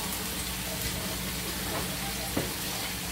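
Constant crackling sizzle of onions sautéing in a small saucepan, dense and even throughout, with light stirring scrapes and a faint voice in the background.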